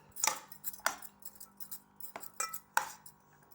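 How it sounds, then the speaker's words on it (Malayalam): Spoon stirring chilli spice powder into cut mango for pickle, a series of sharp metallic clinks and scrapes against the bowl in an irregular rhythm, close and fairly quiet, with no talking. "പൊടി ഇനി നന്നായി ഇളക്കി കൊടുക്കാം"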